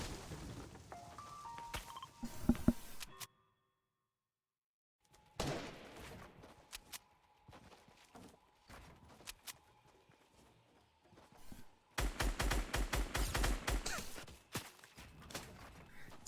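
Rapid bursts of Fortnite gunfire crackle in several clusters, separated by a silent gap and quieter stretches of scattered shots and footsteps, the densest volley coming near the end.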